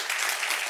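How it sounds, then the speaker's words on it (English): Brief burst of audience applause at a Tech Cornwall sponsor talk, congratulating a man on landing a new job; dense, steady clapping with no pauses. "So can we just give a massive round of applause to Ryan?"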